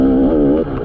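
A 2019 KTM 250XC dirt bike engine revs loud and close, a sustained buzzing two-stroke note that rises slightly, then drops off abruptly near the end.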